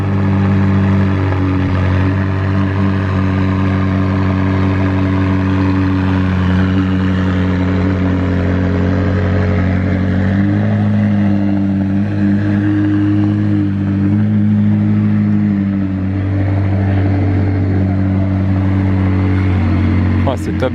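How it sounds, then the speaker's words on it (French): Two McLaren supercars, a Senna among them, run on a cold start, a loud, steady low engine drone with layered harmonic tones holding throughout, a voice talking over it. "C'est top de voir les deux McLaren partir ensemble comme ça"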